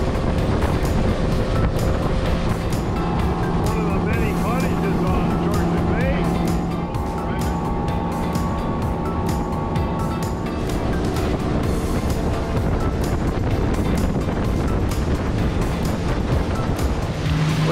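A motorboat engine rumbles steadily over rushing water and hull spray on Georgian Bay, a continuous loud drone with voices talking over it.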